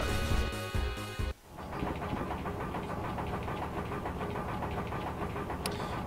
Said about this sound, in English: Zidane, the heat is going to kill the engine if we get any closer.